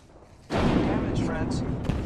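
A frag grenade detonates in the Apex Legends video game with a sudden loud, broadband boom that stays up as a dense roar of debris and gunfire-like crackle.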